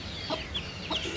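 A Kadaknath hen with her chicks gives a brief, soft round of clucking, close by.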